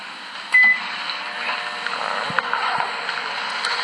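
A running microwave oven gives a steady electrical hum and whir, close by, with a short beep near the start and a few faint clicks.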